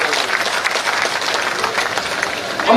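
Loud, dense crowd applause at a large political rally on a Jan Ashirwad Yatra stop in Semariya, steady clapping from many hands filling the whole stretch without a break.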